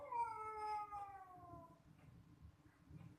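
Two cats fighting inside a house let out a loud, drawn-out yowling caterwaul that slides downward in pitch, then fade into low growling and scuffling.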